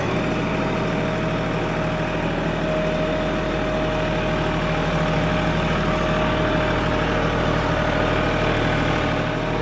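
A front end loader's diesel engine drones loud and close, holding a steady, even pitch the whole way through with no clear rev rise. No voices.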